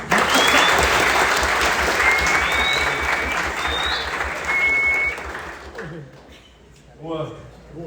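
Loud, dense applause from a crowd at an onboarding event fills most of the clip, then fades out, leaving a few scattered voices and murmurs at the end.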